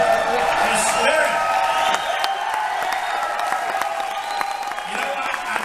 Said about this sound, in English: I love these rowdy crowds